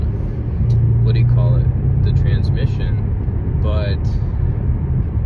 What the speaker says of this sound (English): Putting this new air intake on has smoothed it out at low speeds.